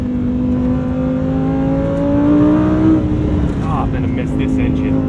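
A Lamborghini Huracan STO engine burbles and rumbles nearby, its revs rising then dropping, with sharp exhaust pops and crackles bursting out near the end.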